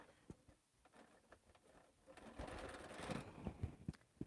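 A sewing machine stitches quilt pieces in quick, faint bursts of needle patter, with short pauses and light handling clatter nearby.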